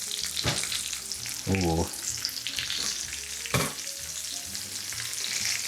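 A pan pizza sizzles steadily inside a home oven, giving a close, continuous crackling hiss with a few louder pops, while a voice briefly exclaims over it.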